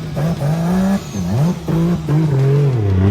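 A Nissan Skyline's inline-six engine revs up and down several times, its pitch climbing and dropping, loud and close.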